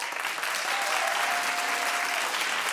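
A studio audience claps in a steady, dense wash of applause, loud and even from start to finish with no talk over it.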